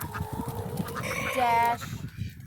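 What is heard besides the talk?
chickens clucking over treats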